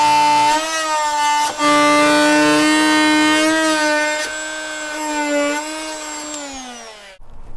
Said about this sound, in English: I'm going to cut out these sections of framing using my oscillating tool